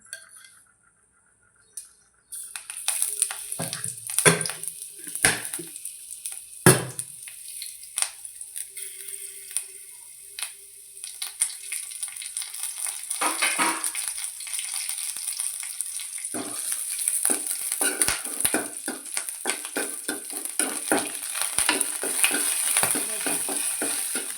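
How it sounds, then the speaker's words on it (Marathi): Green chillies fry in a little oil in a pan, with a steady sizzle that builds over time, broken by sharp clinks and scrapes as a spoon stirs them. "आता आपल्या मिरच्या छान भाजल्या गेलेल्या आहेत."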